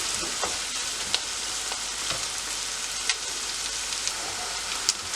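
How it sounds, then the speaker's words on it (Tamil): Onions sautéing in melted pork fat for a pork curry, a steady close frying crackle with occasional sharp clicks of stirring, continuous with no talk. "இப்போ பாருங்க வெங்காயம் நல்லா வதங்கி கொண்டு இருக்குது"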